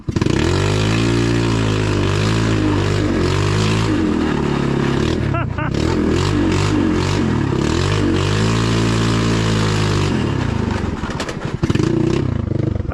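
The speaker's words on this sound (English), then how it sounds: "We were off, crushing the ice on the Alibaba snowmobile" A budget snowmobile ordered online runs at full throttle across ice. Its engine blares loud and close with a buzzing drone that rises and falls in pitch as it revs, plus rattling clatter and bursts of rough noise near the end.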